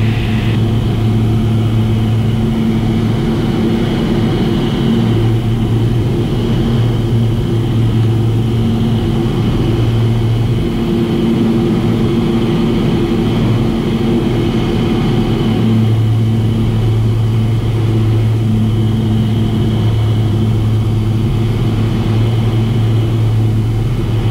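Pipistrel Velis Electro electric airplane climbing at about 1,000 feet per minute with flaps retracting, a steady loud drone with continuous tonal hum and whine, no voices.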